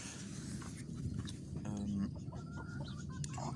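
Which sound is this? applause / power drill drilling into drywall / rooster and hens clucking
rooster and hens clucking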